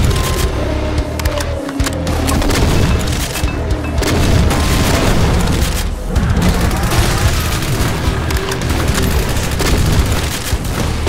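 Gunfire and explosions in the video game Doom 2 with the Project Brutality mod, with dense, continuous booming blasts and rapid shots layered into a loud, chaotic roar with no clear pauses.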